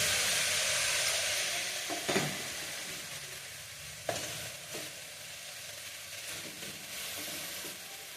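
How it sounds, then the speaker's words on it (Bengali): Bay leaf, dried red chilli and panch phoron spices crackle and sizzle in hot oil for a Bengali greens dish, a steady hiss with a few sharp stirring clacks and pops scattered through. "তেজপাতা আর এই যে শুকনো লঙ্কা ফোড়ন দিয়ে দিচ্ছি আর এই যে পাঁচ ফোড়ন দিয়ে দিলাম"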